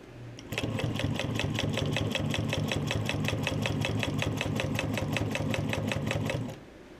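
A Juki walking foot sewing machine stitches through four layers of vinyl for car upholstery, a loud, steady rapid needle chatter that starts abruptly after a brief hum and runs evenly for about six seconds before stopping.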